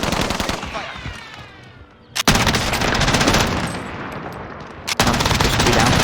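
Rapid automatic gunfire in Call of Duty Warzone, loud, dense bursts that break off briefly and resume, with an MK14 EBR loadout in play; a brief pause separates sustained volleys.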